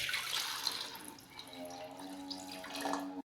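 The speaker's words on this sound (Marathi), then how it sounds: "तर आता ह्याच्यामध्ये थोडंसं पाणी टाकू" Tap water runs into a pot for boiling seven eggs, a steady close splashing whose pitch rises as the pot fills, ending abruptly when the flow stops.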